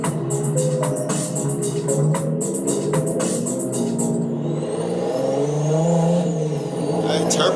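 A JDM drift car's turbocharged engine runs with a steady, throaty drone and rising whir, a clattery diesel-like tone close by, while people talk over it.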